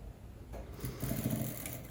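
A sewing machine stitching a seam on a polo shirt whirs up from near quiet into a steady, close mechanical hum with a fast rhythmic chatter, running alone for under two seconds.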